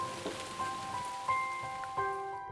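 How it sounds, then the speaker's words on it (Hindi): Rain pours down on a jungle trekking trail. A steady, fairly soft hiss of falling water runs throughout, with faint whistling tones drifting over it. "बारिश ने फुल फोर्स में एंट्री ले ली।"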